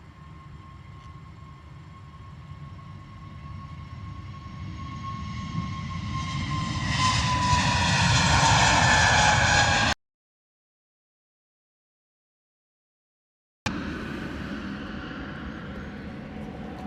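An aircraft departs in fog at London Luton Airport, its distant engine roar swelling into a loud rushing whine, then cutting off in a gap of silence before a steady rumble resumes.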